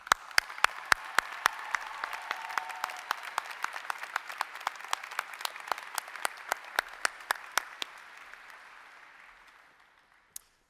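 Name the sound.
audience applause for faculty at commencement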